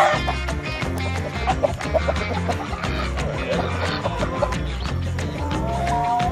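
Chickens clucking near Muscovy ducks, heard as busy overlapping clucks and squawks, close and fairly loud, over a constant low background hum.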